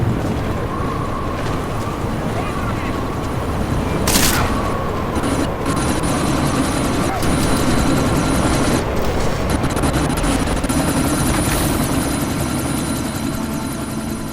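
Military helicopter in the video game Deus Ex: Mankind Divided, its steady rotor thrum loud and continuous throughout amid a desert sandstorm, with bursts of gunfire and impacts breaking through the roar.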